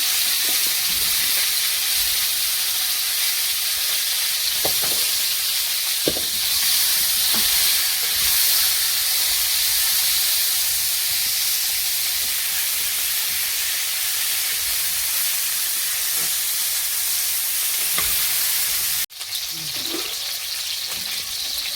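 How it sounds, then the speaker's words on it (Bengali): Cauliflower fries in hot oil, a loud, continuous hissing sizzle up close with occasional soft clinks of stirring, broken briefly by a cut near the end. "ফুলকপিটা ভালো করে ভেজে নেব।"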